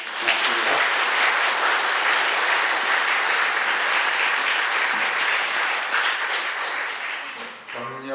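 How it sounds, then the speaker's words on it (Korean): A congregation at a missionary sending service gives warm, sustained applause of encouragement for the missionaries, loud and dense for several seconds before tapering off near the end. "이분들에게 격려의 박수 한번 하겠습니다"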